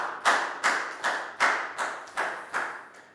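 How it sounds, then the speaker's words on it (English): A small group of children clap in a Year 3 classroom, about seven distinct loud bursts in a steady rhythm, like a rhythmic round of applause close by. "Big high five and round of applause for Down"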